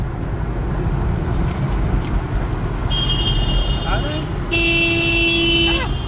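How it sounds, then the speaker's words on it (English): Car horns honk in slow suburban road traffic near the Mountain Shadows club in Paradise Valley, with one long steady horn blast and shorter toots over road noise and passing engines. "They're honking at me because I'm going slow."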